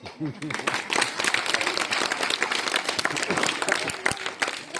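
An audience claps loudly in a dense, continuous burst at a Gurunaman program for Shree Siddeshwar Maha Swamiji, with a speaker's voice briefly audible at the start before the applause dominates.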